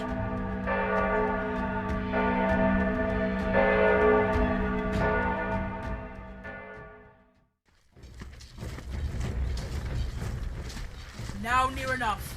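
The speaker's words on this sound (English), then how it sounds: "Ring the alarm bell." An alarm bell rings during a stage performance of Macbeth, repeated loud resonant strokes for about seven seconds before cutting off, followed by rustling stage noise and a voice.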